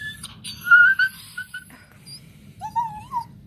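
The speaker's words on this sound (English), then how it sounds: "My tiny dog has anxiety." A tiny, anxious dog whimpers in a run of thin, high, whistle-like whines. The whines are short and rise and fall in pitch over a low indoor rumble.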